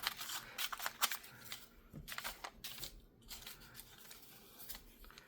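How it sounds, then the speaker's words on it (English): Scissors snip through a slice of scrap paper in a run of crisp, close cuts, mixed with light paper rustling. "I'm just going to cut a little slice of this."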